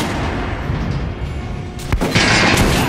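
Gunfire at an armored dummy in Metro: Last Light, heard against a loud rumbling background. A sharp single shot rings out near the two-second mark, followed by a bright, noisy impact.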